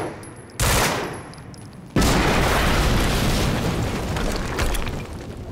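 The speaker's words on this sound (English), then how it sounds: "HQ, we just heard an explosion near the harvesting perimeter." Loud explosions in the video game Quantum Break: a sudden blast bursts in, fades briefly, then a second larger boom erupts into a sustained roaring rumble with crackling debris that slowly tails off, with no talk over it.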